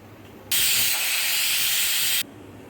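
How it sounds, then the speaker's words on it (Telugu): A pressure cooker holding prawn pulao lets out a single sustained whistle of escaping steam, loud and steady for about two seconds against a quiet kitchen. "కుక్కర్ ఒక విజిల్ వచ్చిన తర్వాత"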